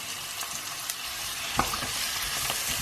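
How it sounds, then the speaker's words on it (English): Chillies and tomatoes hiss and sizzle in a hot pan with ginger and garlic for a vegan cabbage and chickpea curry, a steady close frying crackle with occasional stirring clicks and no talk. "Once the ginger and garlic has released its aroma, I want to add some chillies to your taste and some tomatoes."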